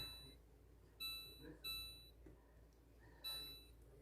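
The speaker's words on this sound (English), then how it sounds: "Put the timer on." Kitchen timer set for an hour of bread proofing gives a few short, faint electronic beep bursts in a quiet room, with soft pauses between them.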